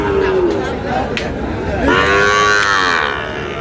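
Sahiwal bulls and calves mooing at a livestock market in Dinajpur, a loud close low moo followed by a longer rising call over faint crowd murmur.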